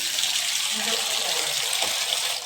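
Water pours steadily into a container in a home kitchen while mint is being prepared, a continuous close splashing gush with no break.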